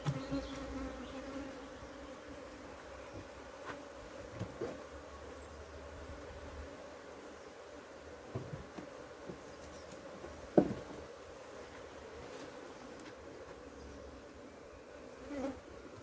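Honey bees at a beehive make a steady, continuous buzzing drone, with a few louder passes as individual bees fly close. No one speaks.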